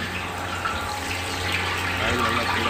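Onion pakoda batter dropped into hot oil in a kadai, a dense, steady hiss and bubbling sizzle, close and continuous, with no clear breaks.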